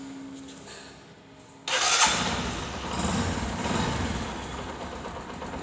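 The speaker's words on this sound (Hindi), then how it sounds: "चाबी लगाएंगे, स्टार्ट करेंगे इसको" A BS6 motorcycle is started with the key: a quiet electrical hum, then the engine fires abruptly and settles into a steady, close idle rumble.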